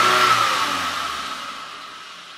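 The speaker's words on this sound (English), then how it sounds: "quickly accelerating and then release the throttle" A 2009 Toyota RAV4 engine revving as the throttle is released, the roar loud at first and then winding down smoothly.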